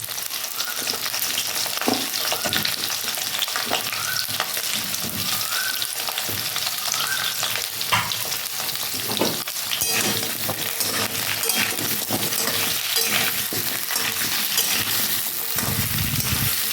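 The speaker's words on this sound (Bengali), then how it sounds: "পেঁপেটা আলু গাজর আর রাঙা আলু একসাথে ভেজে নিচ্ছি" Papaya, potato, carrot and sweet potato fry together in a pan for shukto, with a loud, constant sizzle and occasional clinks of a stirring utensil against the metal.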